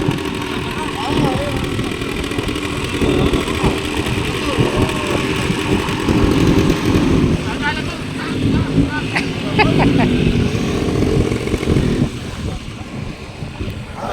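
Motorcycle engine idling and running at the end of a ride near a garage, a steady low drone with wind rush throughout and a voice talking over it.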